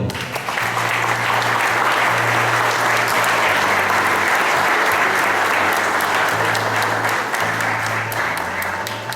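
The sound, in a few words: applause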